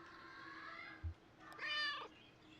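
A single drawn-out cat meow from the video game Kentucky Route Zero sounds clearly over a quiet, steady background hum, preceded by a soft low thump.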